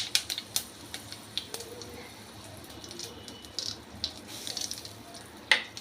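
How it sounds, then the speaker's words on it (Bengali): Cumin seeds, a bay leaf and asafoetida temper in hot oil in a kadai for a Bengali papaya curry, producing a soft, close sizzle dotted with sharp, irregular crackles and pops. "তেল দিয়ে জিরে ফোড়ন দিলাম, একটা তেজপাতা ফোড়ন দিলাম,"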